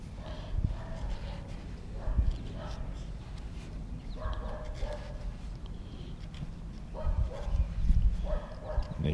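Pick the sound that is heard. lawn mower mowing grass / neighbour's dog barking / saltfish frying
neighbour's dog barking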